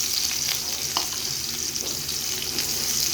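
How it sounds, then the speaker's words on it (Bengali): Onions hit hot oil on a griddle pan, setting off a loud, continuous close-up sizzle with a few faint crackles and pops throughout. "তেলটা গরম হয়ে গেছে, আমি পেঁয়াজগুলো দিয়ে দিব।"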